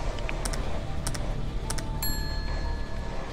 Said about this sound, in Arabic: لما تحط مثلا رقم 9 وتسمع صوت جرس